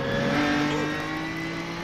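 Onboard the class-leading number 6 BMW race car at the 1999 Rolex 24 Hours of Daytona, the engine screams loud and close, its pitch holding high and then easing slightly as the revs drop.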